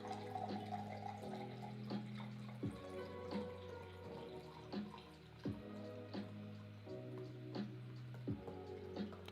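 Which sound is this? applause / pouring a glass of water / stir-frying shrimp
pouring a glass of water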